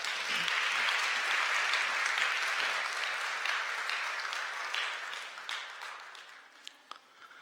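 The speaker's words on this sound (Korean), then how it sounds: "여러분들 축하와 환영의 박수 부탁드립니다" A church congregation applauding in celebration and welcome during a Sunday service, a moderate, even patter of clapping that gradually fades to scattered last claps.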